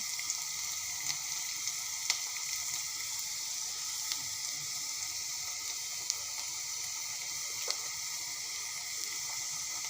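Chopped onions frying in a pan for tomato chutney give a steady, quiet sizzle with faint occasional ticks and pops, no one speaking over it.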